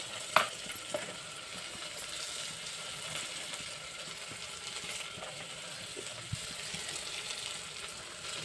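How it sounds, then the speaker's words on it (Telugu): Tomatoes go into a pan of reddish-fried onions, giving a steady, moderate frying hiss with a sharp clack at the start and a few faint knocks. "ఎరగట్లు వేగిపోయినాయి టమాటాలు వేసేస్తాను"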